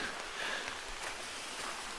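Soft, steady patter of rain falling through deep, foggy woods along a rail-trail, a faint even hiss of drops on leaves with no voices.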